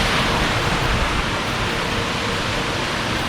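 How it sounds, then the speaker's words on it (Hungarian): Rushing water of a tiered waterfall dropping from one rock pool into the next on an Alpine mountainside, a steady broadband roar that stays even and close throughout with no voices. "Ez egy egészen egyedülálló vízesésrendszer, olyan, mintha egyik fürdőkádból a másikba ugrálna le a víz"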